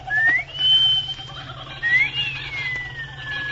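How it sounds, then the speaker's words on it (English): A human wolf whistle in a 1940s radio drama: two rising-then-held whistled tones, loud and close, sounding one after the other over a steady low hum. "Give her that wolf whistle"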